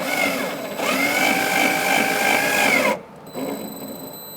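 A power driver whirs as screws fasten a front bumper cover to the body of a 2010-2013 Kia Soul, one loud rising whine lasting about three seconds, followed by a quieter short tail.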